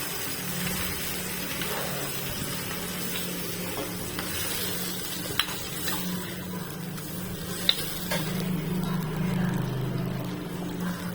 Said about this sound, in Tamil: இது புளியை ஃபில்டர் பண்ணி ஊத்தணும்.